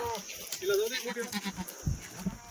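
Kathiawadi goats bleat close by, a few wavering calls mixed with people talking over them.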